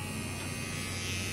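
A small electric hair clipper made for toddlers hums steadily and close up, a continuous even buzz with no talking over it.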